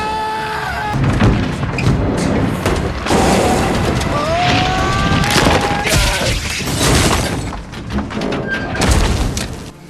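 A car tire bursts and the vehicle spins out of control and crashes, a loud, dense stretch of booming impacts, shattering and screeching skids that runs almost without pause.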